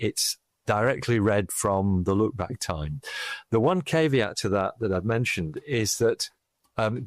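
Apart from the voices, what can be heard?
No everyday noise stands out behind the speech.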